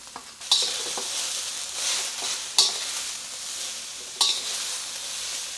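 Shallots frying in a wok, a continuous bright sizzle close by, broken by three sharp metallic stirring scrapes spaced a couple of seconds apart.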